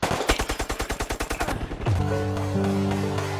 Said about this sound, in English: How did I miss all those shots?